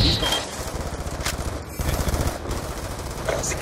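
A-10 Warthog cannon firing on ground targets in Black Ops 2, a sustained rumbling burst of rapid fire with distant impacts, under a voice speaking over the radio.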